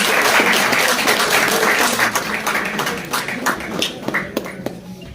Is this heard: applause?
yes